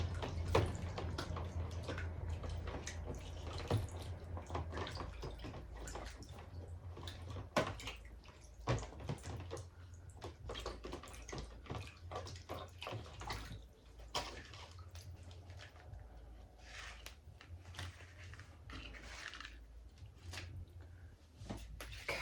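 Running water rinses the roots of a repotted plant, heard as faint, uneven splashing and dripping with occasional soft knocks, quiet and close, with no speech.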